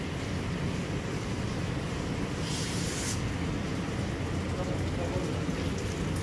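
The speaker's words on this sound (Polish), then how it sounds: "Woda się przelewa." At a cement plant in Opole, water overflows from a tank with a steady, loud splashing rush that runs unbroken, joined by a brief brighter hiss midway.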